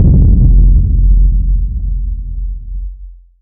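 Hard techno kick bass rumble from a Serum synth, EQ-filtered to strip the highs, a deep booming low-end drone that slowly decays and fades over about three seconds.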